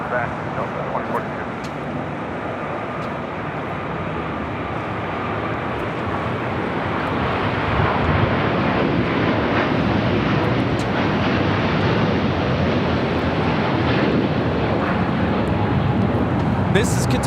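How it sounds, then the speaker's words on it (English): A Qatar Airways Airbus A350-1000 departs LAX for Doha. Its broad jet roar is heard from a distance and builds louder and fuller partway through, while voices talk over it. "This is Qatar Airways 740 taking off to Doha on the A350 1000."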